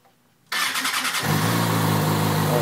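A 2009 Kawasaki Ninja ZX6R motorcycle cranks with its starter after a moment of quiet, then catches and settles into a loud, close, steady idle with no voices.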